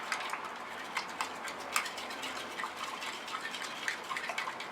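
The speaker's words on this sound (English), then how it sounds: "you're going to take your stir stick and you're going to stir it up" A stir stick working through orgonite resin mixture, producing rapid soft ticking and clicking scrapes in an irregular steady rhythm, fairly quiet and close, with no voices.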